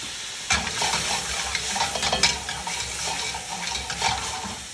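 Steak Diane sauce sizzles hard in a hot pan and flames up, a loud steady frying hiss with bursts of crackle and spatter and stirring scrapes, close.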